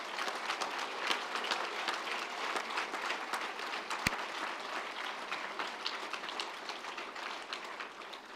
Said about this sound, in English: Let's give yourselves just one more big round of applause.